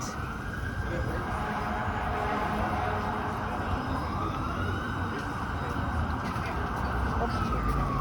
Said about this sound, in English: I think I hear sirens